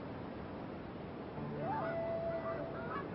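Aleutian Canada geese honking from a distance on a wild coastal island, faint calls with one drawn-out, rising honk over a steady wash of surf and wind.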